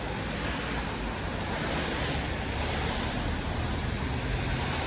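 Rain falling outdoors on a rainy day, a dense steady wash of noise, loud and unbroken throughout.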